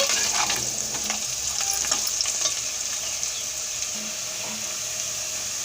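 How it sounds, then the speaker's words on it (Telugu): Bitter gourd pieces fry in a pan with a loud, steady sizzle, and scattered stirring clicks and scrapes land near the start and again around the middle. "కాకరకాయ ముక్కలు ఎర్రగా వేగే వరకు ఇది పక్కన ఉంచుకుందాం."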